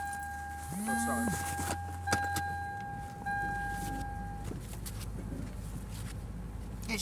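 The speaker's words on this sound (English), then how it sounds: "I can show you what happens when I start my car." A car being started and then cutting out on a street, with a whining cranking and starter sound and a steady hum that fade away as the engine shuts off.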